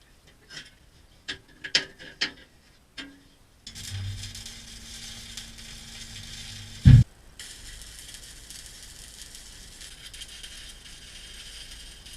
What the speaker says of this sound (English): I'll bend it back into shape and run a bead along there